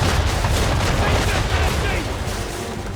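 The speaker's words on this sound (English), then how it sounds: "Now, aim all guns at her bow and do as much damage as possible. Fire broadside!" Ship cannons fire a broadside during a naval battle in Assassin's Creed 3, a dense, loud, continuous roar of overlapping booms with no clear gaps.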